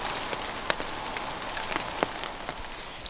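Steady rain patters across leaves and surfaces in a bamboo forest in Hadong, a dense continuous hiss with scattered louder drops, no voices.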